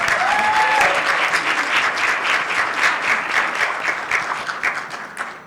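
Loud, dense audience applause at a women in media and communication mentoring event, a full crowd clapping steadily for several seconds before it thins and stops near the end.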